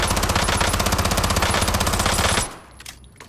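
Vel 46 submachine gun in a video game, fired on a shooting range in one loud, rapid sustained burst of automatic fire lasting over two seconds, then cutting off to quiet room tone with a couple of faint clicks.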